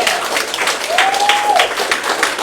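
Audience applause at a live debate event, dense clapping from a crowd filling the room with a steady rattle, fairly loud and close, a brief tonal whine passing over it.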